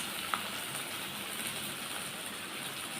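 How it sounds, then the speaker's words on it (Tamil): Potatoes frying in oil with salt, a steady dense hiss of sizzling that holds even throughout with one faint tick near the start, close and fairly quiet. "அந்த ஆயில்லையே வந்துட்டு உருளைக்கிழங்கு நல்லா ஃப்ரை ஆகி வரட்டும்"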